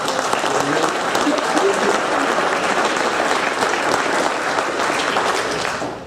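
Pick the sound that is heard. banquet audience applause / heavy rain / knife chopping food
banquet audience applause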